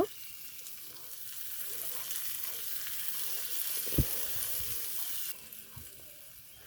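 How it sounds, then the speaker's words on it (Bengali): Chopped onion frying in hot oil while being stirred, making a steady soft sizzle with an occasional spoon knock, close but fairly quiet. "ওই তেলের মধ্যে পরিমাণ মতো পেঁয়াজ কুচি দিয়ে ভালো করে কিছুক্ষণ নাড়াচাড়া করে নেব"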